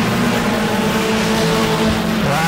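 Scrambler race cars roaring around the track at Auburndale, a continuous loud engine drone with steady tonal whine and some tire noise, several cars blending together close by.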